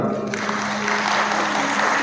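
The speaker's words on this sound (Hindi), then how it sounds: "पूज्य महाराज श्री जी की बार जोरदार तालियां" An audience at a Shri Ram Katha religious discourse gives the revered storyteller a burst of strong, continuous applause, dense and steady throughout, with a low hum from the sound system beneath.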